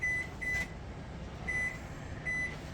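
Several short electronic beeps from a microwave oven keypad in a 2022 Highland Ridge Olympia 26BH travel trailer, two pairs with a pause between, over a low steady hum at modest volume.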